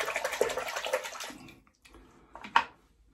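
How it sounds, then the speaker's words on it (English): Water splashing close by as a face is rinsed with cold water at a sink after a shave with a Gillette D3 safety razor, soft irregular splashes followed by a brief pause and one more splash. "So we'll just have a rinse off in cold water."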